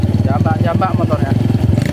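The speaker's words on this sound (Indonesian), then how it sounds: "Jambak motornya." A motorcycle engine, fitted with a newly swapped camshaft, revs with a fast throbbing pulse at close range, rising slightly in pitch midway. It is loud and steady, and someone talks over it.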